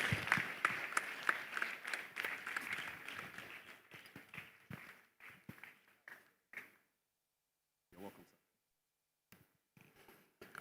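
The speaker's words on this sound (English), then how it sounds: "Please give him a round of applause." Summit audience applauds a health minister, with dense clapping at first that thins into scattered claps and dies away, then a few last isolated claps.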